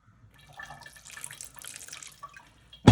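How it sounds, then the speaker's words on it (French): Hot water trickling and splashing into bread dough in a bowl, a faint, brief, uneven pour with a sharp knock at the very end, no talking. "on va rajouter un petit peu d'eau chaude"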